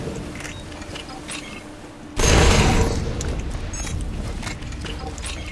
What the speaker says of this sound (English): they just fall on the ground and explode after a few seconds